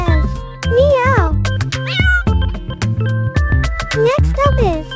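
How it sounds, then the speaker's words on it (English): A cartoon cat on a fun farm meows repeatedly in rising and falling cries, loud and close, with short musical tones and jingles around the calls. "A cat says, meow."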